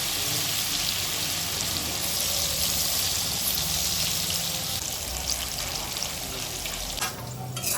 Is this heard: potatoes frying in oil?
yes